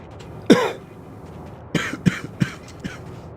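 A man clears his throat roughly once, then gives a short run of three or four dry coughs, close and fairly loud with quiet pauses between them.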